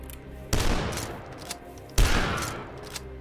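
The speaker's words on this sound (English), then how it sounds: "Get that guy with a super shotgun." Two heavy booming blasts from a super shotgun in the retro shooter Dusk, each a sharp loud report with a rumbling decay, about a second and a half apart.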